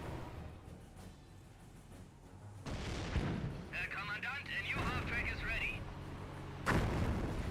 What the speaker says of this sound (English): That's a barrage order.